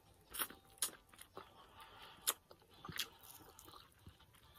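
Crunchy fried food being bitten and chewed close up, with sharp crackling crunches in an irregular rhythm over a few seconds, no talking.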